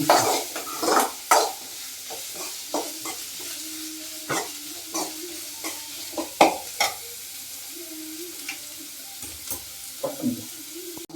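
Onions sizzle gently in a pan on low heat, a steady quiet fry broken by irregular stirring scrapes and light clinks of a spoon against the pan, with no voices.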